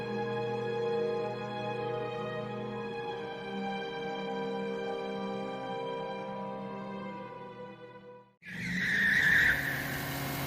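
Car in an adult animation series driven hard, a steady engine drone for about eight seconds, then a sudden loud, bright tire skid squeal near the end.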